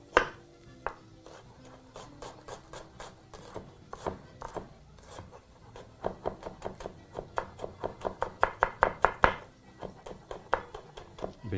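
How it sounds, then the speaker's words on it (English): A knife finely chops an onion on a board in quick, sharp, close taps, first scattered, then in faster, louder runs with short pauses between bursts. "chop our onion very finely"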